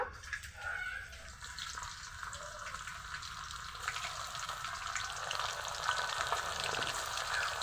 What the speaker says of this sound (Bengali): একইভাবে আমি সবগুলো মাছ ভেজে নিব।